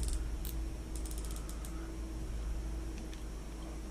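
Daiwa Steez A2 baitcasting fishing reel winding close up, a continuous fine mechanical whir of gears with faint clicks and ticks, no talking.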